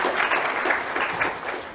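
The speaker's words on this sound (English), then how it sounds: "Can we have a huge round of applause for him?" An audience at the Keysight World India 2023 tech conference claps continuously, a thick wash of applause at a steady loud level throughout.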